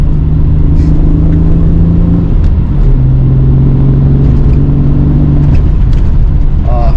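A 1996 Alfa Romeo 155 V6 sedan engine drones loudly and steadily while driving, a deep rumble that drops in pitch partway through as if shifting gear.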